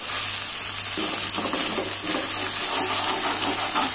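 Spice paste for grilled fish sizzles and crackles in cooking oil with a steady hiss, close and continuous, with occasional stirring scrapes.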